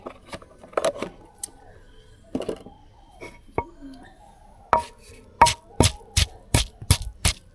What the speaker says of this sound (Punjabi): ਫਿਰ ਕੁੱਟਾਂਗੇ ਦੁਬਾਰਾ ਪਰ ਜ਼ਿਆਦਾ ਬਰੀਕ ਨਹੀਂ ਕਰਦੇ ਥੋੜਾ ਜਿਹਾ ਮੋਟਾ ਹੀ ਰੱਖਾਂਗੇ